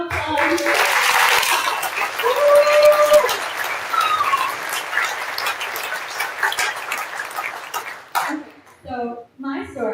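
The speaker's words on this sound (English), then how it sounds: "So let's give a round of applause." Audience applause for participants in the Cayman Young Writers youth writing competition, a dense wash of clapping that fades out near the end, with voices mixed in and a few scattered claps afterward.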